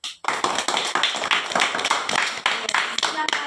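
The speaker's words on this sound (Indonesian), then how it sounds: "Beri aplaus dulu untuk kelompok 3." A classroom of students gives a round of applause for a presenting group, a dense burst of clapping hands lasting several seconds at steady loudness, close and lively with no talk over it.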